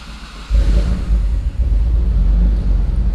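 Twin-turbo Mitsubishi 3000GT VR4 with its 6G72TT V6 cold-starting: a brief crank, then the engine catches at about half a second into a loud, steady, rumbling idle up close.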